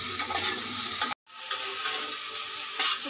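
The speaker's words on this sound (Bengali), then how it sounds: "আমি একটু লবণ দিয়ে মশলা সবজিগুলো কষিয়ে নিচ্ছি" Vegetables and spices with salt stirred and sautéed in a hot pan for sukto, giving a close, steady sizzle with scraping stir strokes, broken by a brief silent gap before the frying resumes.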